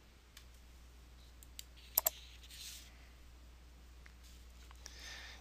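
A computer mouse clicks while working in Excel 2010, with a close, quick double click standing out over a quiet room hum, plus a few fainter scattered clicks before and after.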